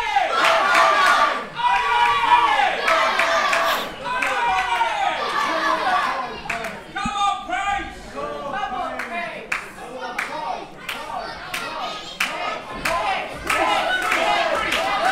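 A crowd at a live wrestling match cheers, shouts and claps throughout, full of excited higher voices and bursts of applause. The noise is loud and rises and falls without a break.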